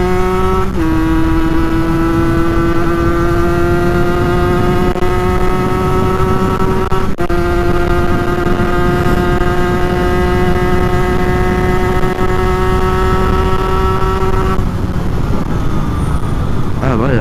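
A Peugeot NK7 scooter engine idles loud and steady close by, with a constant droning note and a brief dip partway through before the tone roughens near the end.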